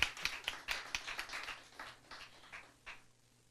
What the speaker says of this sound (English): So you can clap for that.